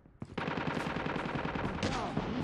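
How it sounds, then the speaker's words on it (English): A sentry gun in Call of Duty Mobile fires a rapid, steady burst of automatic shots, loud and close, running continuously for a couple of seconds. "Sentry gun deployed."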